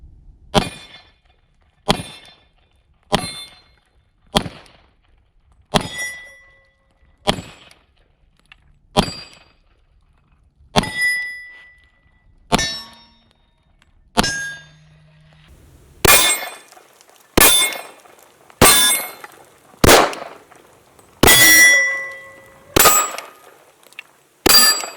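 A Glock 23 pistol firing at steel targets: a steady series of about twenty sharp shots, each ringing off metal with a bright clang that decays quickly, louder and brighter toward the end.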